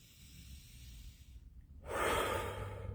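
Deep breathing, a quiet inhale then a long, loud broadband exhale that swells after a short silence and holds to the end, close to the listener, with no talk.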